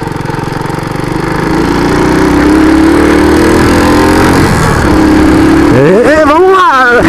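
A Honda Biz 125 motorcycle accelerating, its engine a loud, steady close drone that climbs in pitch and then wavers up and down as the throttle varies, with voices heard over it.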